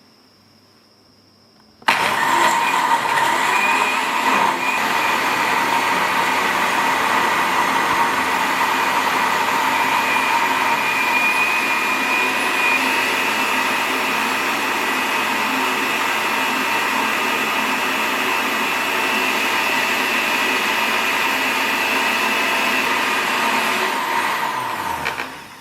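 A blender whirs as it blends a protein smoothie in its covered jug, starting abruptly and then running loud and steady without a break before winding down at the end.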